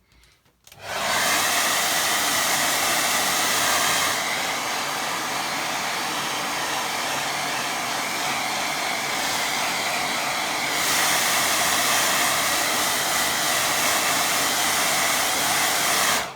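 A hair dryer blows on a watercolour painting of a stream, a loud and steady whooshing roar that starts abruptly and runs throughout, briefly shifting in tone midway as it moves, with no talking.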